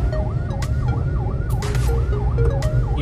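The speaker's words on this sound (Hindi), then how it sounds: "ये कोई एम्बुलेंस भी यहाँ फंस गई है ट्रैफिक के अंदर" An ambulance stuck in city traffic on a road toward Faisalabad wails with a rapid, loud, repeating siren over the drone of engines and traffic noise.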